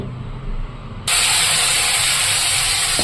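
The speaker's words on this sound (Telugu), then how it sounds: "తర్వాత చికెన్ పీసెస్ అన్నీ కూడా ఆయిల్ వేసిన ప్యాన్లో వేసుకొని బాగా ఫ్రై చేసుకోవాలి." Chicken pieces coated in turmeric, chili powder and salt hit an oiled pan, setting off a loud, steady, hissing sizzle that starts abruptly about a second in and continues unbroken at close range.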